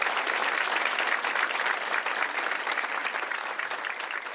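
A church congregation at a Bible study gathering bursts into sustained, dense applause, many hands clapping loudly and evenly for several seconds without a break.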